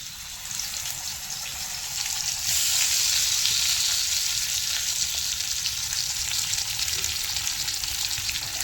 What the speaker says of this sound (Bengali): ওইদিকে মাছটা ভাজা হয়ে যাবে, এদিকে ওলটা সেদ্ধ হয়ে যাবে